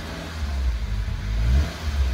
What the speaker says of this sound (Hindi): देखो भाई एग्जॉस्ट की आवाज सुना दे